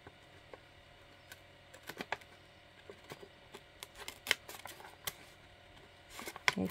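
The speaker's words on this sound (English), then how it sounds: "Get my little scissors in here." Small scissors trimming paper for a handmade fall-themed tri-fold subway bag, a run of faint, close, irregular snips and ticks over a quiet room hiss, with no voice.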